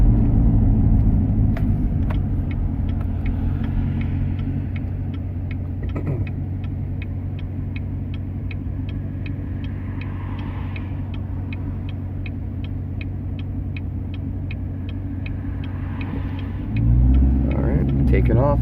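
A manual stick-shift car idles with a low steady rumble and a regular ticking pulse, then the engine note swells as it pulls away near the end.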